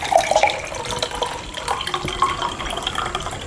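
Iced water is poured for drinking in a steady splashing trickle lasting a few seconds, close and moderately loud, with no talk over it.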